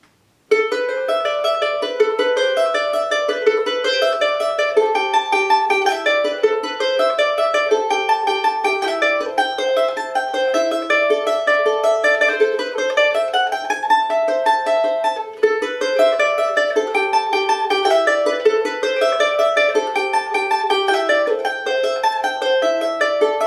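A charango plays the introduction to a song, a bright, steady run of rapid plucked melody with a continuous ringing texture and no voice.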